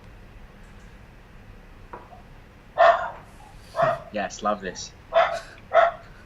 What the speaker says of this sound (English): Got the sound effects from the dogs too.